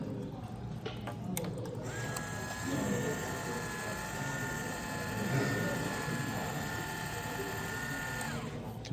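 A small conveyor mechanism runs with a steady mechanical whir and faint rattling, a constant drone over the whole stretch, with a few clicks at the start.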